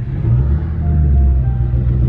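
A Mustang Cobra's engine rumbles deep and close as the throttle is pressed, a short steady low growl rising slightly in intensity, with no talking.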